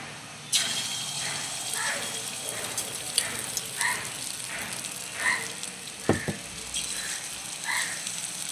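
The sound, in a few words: frying small omelette pieces in oil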